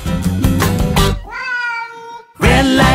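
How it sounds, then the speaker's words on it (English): A cat gives one clear, drawn-out meow in the middle of a children's song, heard alone between loud bursts of music with singing before and after. "there's a cat."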